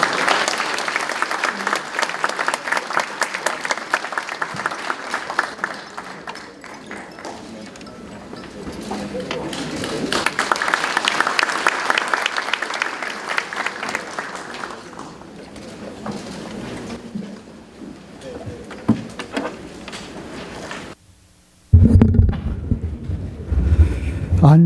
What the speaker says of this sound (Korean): 의장님을 큰 박수로 맞아주시기 바랍니다.